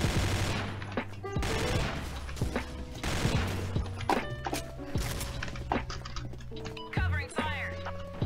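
Gunfire in the video game Combat Arms Reloaded comes as repeated loud bursts of shots and fusillades with sharp cracks, running continuously and close up for the whole stretch.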